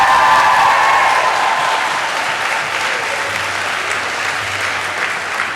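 A crowd at a same-sex and gender-diverse school formal in Victoria cheering and applauding loudly, a dense wash of clapping and whoops that starts strong and tapers slightly over several seconds.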